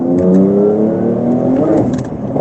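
A Porsche 992 Turbo S accelerating hard, its engine note a loud, close, rising roar with climbing tones that dip briefly near the end as the car pulls.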